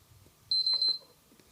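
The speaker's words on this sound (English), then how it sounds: "and then it will beep" A PlayStation 3 console emits a single short, high electronic beep during a firmware downgrade, clear and close against a quiet room.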